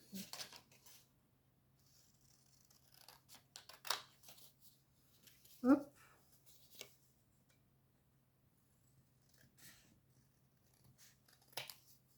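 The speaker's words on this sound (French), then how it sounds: "Ciseaux." Scattered, faint snips of scissors cutting paper, one sharper cut midway, separated by quiet pauses and soft handling noises.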